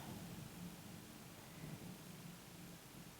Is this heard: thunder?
yes